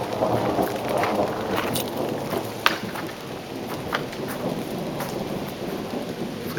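A thunderstorm on Salt Spring Island, Canada: steady rain pattering on surfaces with a southwesterly wind, broken by sharp cracks and rolling thunder, loud and close.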